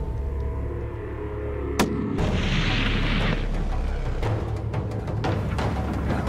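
A single sharp rifle shot fired while hunting rams, a loud close crack followed by a rumbling echo rolling off across open terrain, with no talk over it.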